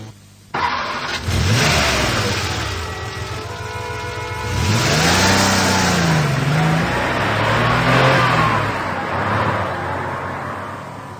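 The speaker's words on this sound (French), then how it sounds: "Et voici la voiture de Nicodème Apoustifon" A car pulls away from a village, its engine starting with a jolt and then revving and rising in pitch as it accelerates, loud and close with wavering engine tones and no speech.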